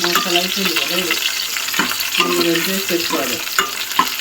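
Onions fry for gravy in a pan, crackling and sizzling steadily while a utensil stirs through them in bursts of scraping, close and fairly loud throughout.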